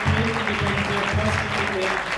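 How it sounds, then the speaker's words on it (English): A crowd at a marketing company presentation applauds its 2020 club winners, loud continuous clapping with cheering and voices mixed underneath. "We're going to give a big round of applause to our 2020 winners."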